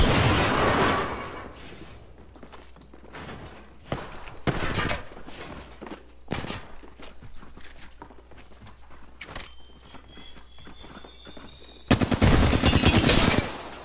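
Gunfire and explosive bursts from a battle in Apex Legends, the season 9 battle royale shooter, with a frag grenade thrown. Sharp shots crack at irregular intervals, and loud dense bursts open and close the sequence.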